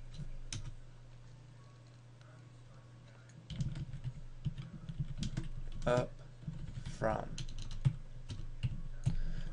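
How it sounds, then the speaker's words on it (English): Computer keyboard keys tapped in irregular bursts of clicks during a math lecture on concavity, fairly close and moderately loud, with brief speech in between. "sorry to just be typing away and ignoring you for a minute"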